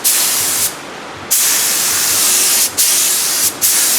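Spray gun laying a light mist coat on a Nissan 350Z quarter panel during repair: steady close, loud hiss in several bursts with brief pauses between passes, no talking.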